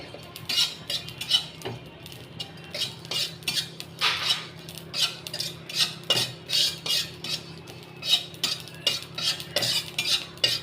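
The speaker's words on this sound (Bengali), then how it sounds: "কড়াইতে একটু জিরে ঢেলে নেব জিরেটা আমার ভাজা হয়ে গেছে" Cumin seeds being fried and stirred in a wok, with repeated scraping and clinking of a utensil against the pan over a low steady hiss, close and moderately loud, no talking.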